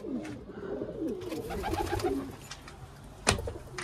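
Pigeons coo up close in overlapping rolling phrases that run almost without a break. A sharp click sounds near the end.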